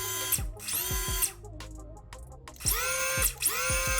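Brushless motor in a Phantom RC setup held at steady revs, two sustained whining bursts with rising pitch sweeps, pausing between them, then a pair of clicky spin-downs near the end; close and moderately loud, no talk.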